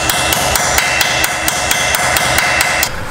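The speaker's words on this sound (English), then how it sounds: "So basically just hammering this on, kind of creating some new teeth" Steady metal-on-metal hammer strikes driving a T40 bit into a stripped bolt on a BMW M3, about a dozen sharp evenly spaced blows, loud and close with no talking.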